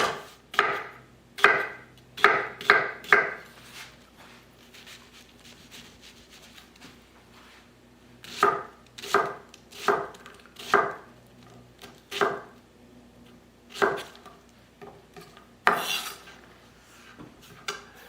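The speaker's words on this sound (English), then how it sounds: "And then we'll come in and cut up our serrano pepper." A knife chops serrano pepper on a cutting board in quick bursts of sharp, close taps, several rapid clusters separated by pauses, with no talk.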